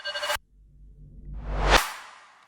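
Soloed riser sweep and impact effects for a music track: a short bright burst cuts off, then a rising whoosh swells over a second into a loud peak and decays, all alone without voices.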